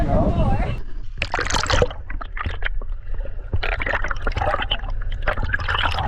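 A white bass let go into lake water, with splashing and sloshing close by, a brief underwater-sounding stretch, then churning water and gurgles throughout.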